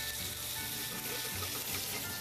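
A cod fillet fries in a hot pan in a restaurant kitchen, giving a steady, close broadband sizzle that runs unbroken with no talking.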